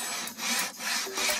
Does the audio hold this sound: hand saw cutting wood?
yes